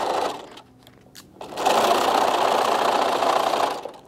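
A sewing machine stitching fabric for a Japanese knot bag gives a quick whir, goes briefly quiet, then runs a steady, fairly close buzzing stitch for about two seconds before stopping.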